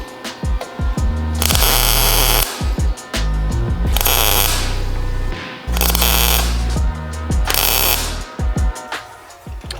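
Tack welding on a Nissan Skyline R34 rear wheel well comes as four loud, crackling bursts of one to two seconds each, separated by short pauses, close by.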